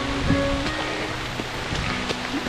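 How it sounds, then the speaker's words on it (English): Dense, hissing wash of heavy rain pouring down steadily, broad and constant with a few faint tonal chirps in the background. "had I known it was going to rain this hard"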